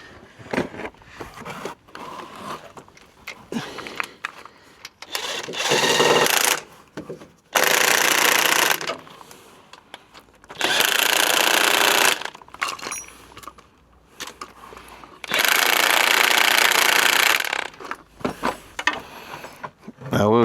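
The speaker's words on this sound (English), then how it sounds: "I'm just going to use my impact gun to tighten them up" An impact gun tightens bolts on a VW Crafter with four loud rattling bursts of a few seconds each, separated by quieter clinking and handling of tools close by.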